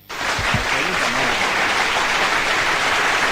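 Sustained applause from a studio audience at an anniversary celebration on a TV programme, a dense, even wash of clapping throughout, with a brief voice at the start.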